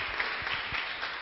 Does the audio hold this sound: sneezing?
no